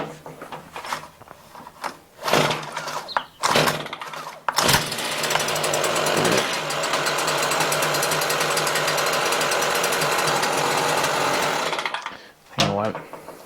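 Stihl hedge trimmer engine after a choke adjustment: a few short revs and sputters give way to a sustained, loud, buzzing run that drops off and stops, with a person talking in the brief gaps.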